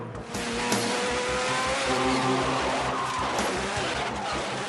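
Sports racing cars, including a championship-leading Lister, roar past in a continuous loud blend of engine drone and tire noise, with pitch shifting as they pass, filling the whole stretch.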